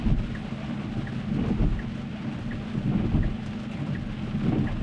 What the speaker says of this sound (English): Therefore I get very wet in rain like this